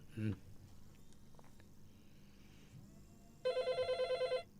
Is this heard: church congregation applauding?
no